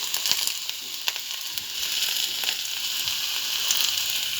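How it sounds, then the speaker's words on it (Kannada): Green chillies frying in a hot pan for tomato chutney, a bright, steady sizzle with scattered crackles and pops, close and alone. "3 ಹಸಿಮೆಣಸಿನಕಾಯಿ ತೊಗೊಂಡಿದ್ದೀನಲ್ಲ, ಇದನ್ನು ಹುರ್ಕೊಳ್ತೀನಿ."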